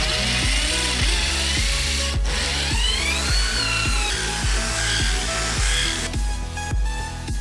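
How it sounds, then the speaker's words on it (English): A power drill bores a hole for a bolt, a close, loud motor whine pulsing in repeated short bursts as the bit bites, with a brief pause midway. "We need to drill a hole for this bolt."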